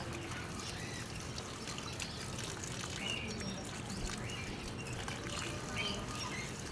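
Water pouring and trickling steadily while plants are watered outdoors, a continuous dense splashing wash with faint bird chirps in the background.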